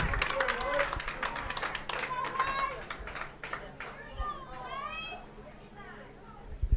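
Spectators cheer and clap at a high school field hockey game as the final seconds run down, with a crowd roar, scattered shouts and voices mixed throughout.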